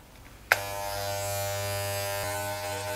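A Wahl HomeCut electric hair clipper clicks on and settles into a loud, steady, strongly vibrating mechanical buzz, humming close by with no speech.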